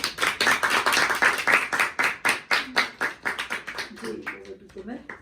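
An audience at a religious gathering clapping in a quick rhythmic burst that slows and fades as a voice begins speaking.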